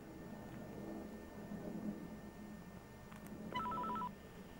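A telephone gives a short electronic ring near the end, thin and faint in a quiet room with a low background murmur, while a detective waits for an expected call back.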